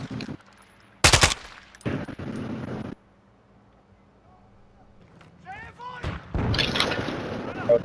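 Gunshots fired at plate targets outdoors in the bush, a loud sharp shot near the start and another burst soon after, separated by quieter stretches with distant talk and rustling.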